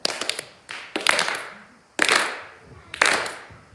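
Four bursts of hand clapping roughly a second apart, each a brief flurry of many claps that swells sharply and then fades.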